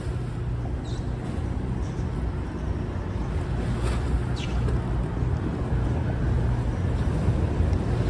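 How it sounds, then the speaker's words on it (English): High-tide harbor water near One Wall Street surges almost to street level, making a steady, full wash of waves and lapping water with wind rumble across the microphone throughout. "Can you guys hear the water"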